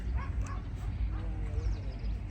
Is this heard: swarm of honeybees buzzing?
no